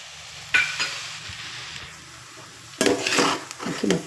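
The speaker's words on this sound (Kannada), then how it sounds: "ನೋಡಿ, ಇವಾಗ ಲೆಮನ್ ಜ್ಯೂಸ್ ಆ್ಯಡ್ ಮಾಡ್ತಾಯಿದ್ದೀನಿ." Lemon juice goes into lemon rice in a pan, followed by scraping, stirring strokes and a light sizzle; a quiet stretch gives way to a louder burst of close mixing at the end.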